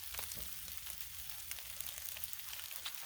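Cajun fried rice sizzles steadily on a hot Blackstone flat-top griddle, a continuous crackling fry at moderate level with faint scattered pops.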